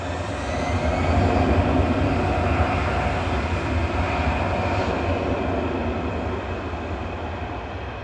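An EasyJet airliner bound for Jersey departs Manchester Airport, its engine roar swelling into a loud, broad, sustained rumble and then easing slightly as it climbs away.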